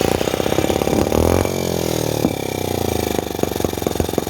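A tiny Microcosm 1.9cc gasoline engine powers a T26 model tractor, buzzing steadily up close with a rapid, even putter and a brief drop in pitch midway.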